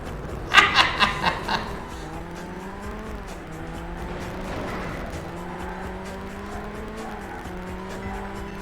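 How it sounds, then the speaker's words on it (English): A car wrecks in the video game Burnout, giving a brief series of rattling crash impacts and then a sustained engine drone with tire noise, loud and close, while people laugh over it. "Almost sound like Travis Pastrana, laughing like a madman as his car wrecks."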